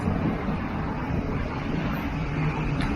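Steady, loud wind buffets the microphone by the sea in Phuket, Thailand, a constant rushing roar with surf-like noise underneath.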